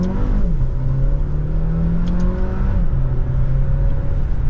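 A car in sport mode pulls away and accelerates, its engine a loud, steady drone that rises in pitch through a gear change, with the hum carrying on inside the cabin.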